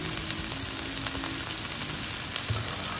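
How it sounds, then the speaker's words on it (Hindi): Spice-coated goat kidney pieces, rubbed with black pepper, red chilli and turmeric, fry in a pan with a steady, close sizzle and occasional soft crackles throughout. "और इनको हल्का सा भून लेते हैं।"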